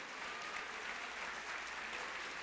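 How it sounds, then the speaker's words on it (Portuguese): A church congregation applauds during a sermon, a dense, steady wash of many hands clapping at moderate distance, sustained without pause and with no speech over it. "Se você é vencedor, levante o aplauso."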